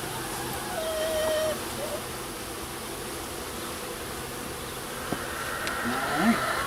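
Honey bees buzzing around an open top bar hive outdoors, a soft continuous drone with individual bees passing nearby, steady and moderately faint.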